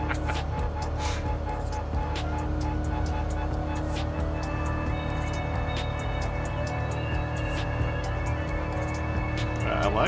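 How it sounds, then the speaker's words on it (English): A Corvette race car in Gran Turismo Sport at Maggiore holds a low, steady engine burble, with someone talking over it throughout. "It's got a nice burble to it too. It's got a real nice sound to it."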